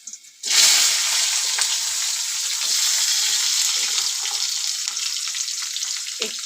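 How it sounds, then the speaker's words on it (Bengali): Cut potatoes frying in hot oil with a turmeric and salt seasoning, a loud steady sizzle that bursts in abruptly and holds with crackling spits throughout, close up and without talk. "এর মধ্যে আমি কেটে রাখা এই যে আলুগুলো আগে ভেজে নেব"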